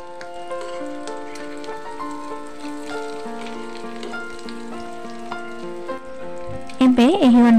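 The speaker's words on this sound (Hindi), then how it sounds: "अंडा को आउ दु मिनिट पर फ्राई होगा" A street-style egg fries in a pan with a continuous crackling sizzle like light rain, under steady tonal background music, with a louder sweeping sound near the end.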